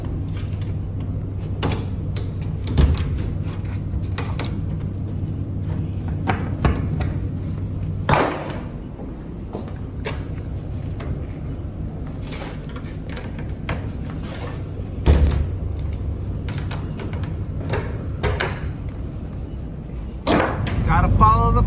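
Cargo straps being released from a truck load, heard as scattered creaks, ratchet clicks and sharp snaps over a steady low idling hum, with a few louder knocks near the middle and the end.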